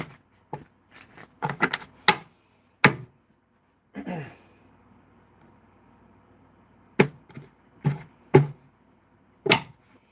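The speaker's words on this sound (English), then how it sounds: "One more shuffle." Tarot cards shuffled by hand give a run of crisp, quick riffling and tapping bursts with quiet gaps between them, close and fairly loud, with no talking.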